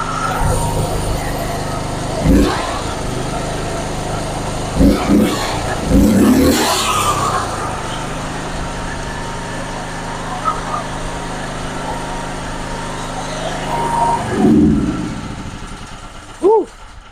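A gasoline generator engine, freshly serviced with a cleaned carburetor and new oil, runs steadily up close and is revved a few times, its rumble rising in short bursts, with someone talking over it.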